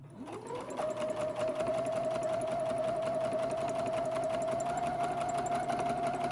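A home sewing machine stitching fabric for a newborn elf outfit, running continuously with a steady mechanical whir and rapid needle rhythm after a short spin-up, close and fairly loud with no talking.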